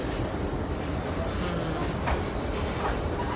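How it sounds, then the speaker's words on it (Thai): Steady rumble of a moving train heard from inside a passenger car in Chicago, with a continuous rolling roar and faint rhythmic wheel clatter throughout, no one speaking. "อยู่บนรถไฟแล้ว"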